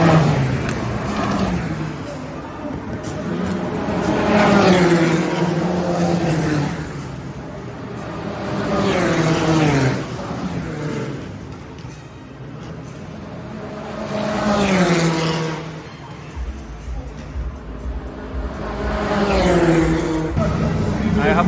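A modified race car engine at an AMG Cup Brasil event revs repeatedly in loud rising and falling surges, with someone talking between the engine bursts.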